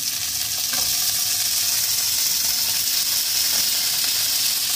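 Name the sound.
soaked cashews, walnuts and raisins sizzling in oil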